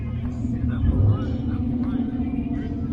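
A 1993 Ford LX Calypso, home-built, rumbles with a steady low engine drone at a Ford car meet, constant and fairly close, with faint outdoor chatter over the top.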